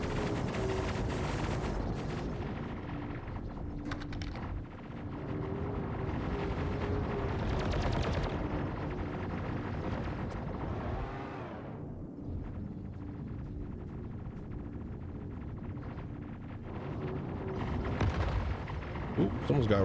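Point defense cannons on the Polaris ship in Star Citizen fire in long, heavy, rumbling bursts, steady and loud, with people talking over the barrage throughout.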